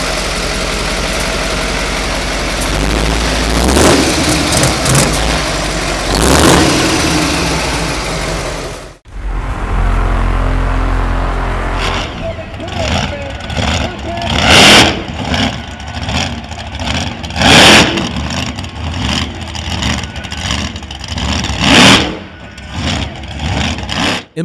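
A giant custom truck engine rumbles loudly at idle, cuts briefly, then roars back with a series of sharp, aggressive revs rising and falling in bursts, close and powerful.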